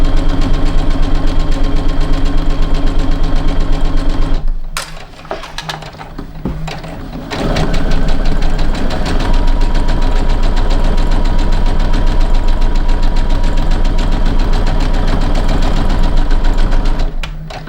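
Sewing machine stitching fabric for a half-moon pouch with gathers, a loud steady rapid mechanical chatter that drops out briefly partway through, then resumes and continues to the end.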